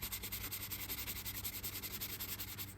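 A brush strokes finish over leather in quick, steady back-and-forth passes, making a soft rhythmic scratching rub heard close up, with no talk.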